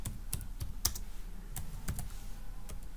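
Typing on a computer keyboard while editing class text in Google Classroom: quiet, irregular key clicks tapped one by one at a relaxed pace, close and soft, with no voice.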